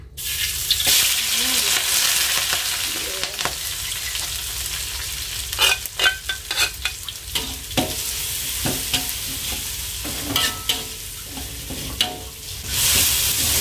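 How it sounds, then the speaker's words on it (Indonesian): Ground spice paste for chicken soto sautéing in a pan, a steady close sizzle with repeated scraping stirs and utensil clicks throughout, fairly loud with no talking. "kita tumis ya sampai benar-benar bumbunya harum."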